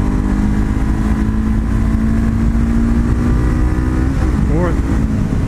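Honda CBR500R motorcycle engine holds a steady loud drone, then near the end the revs dip and rise in a quick throttle blip during a gear change, heard up close with wind rushing past.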